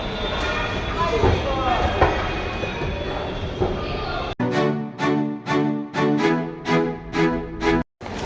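A metro train hums and rumbles past with rhythmic clacking pulses in the second half, after a stretch of busy station noise and people talking.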